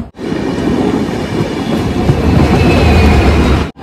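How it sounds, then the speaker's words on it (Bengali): A passenger train leaving Dhanbad rolls along the rails, heard loud and close from inside the carriage. Its wheels rumble and clatter continuously, with no talking. "ধানবাদেও অনেকক্ষণ দাঁড়িয়ে এখন ট্রেনটা ছাড়লো।"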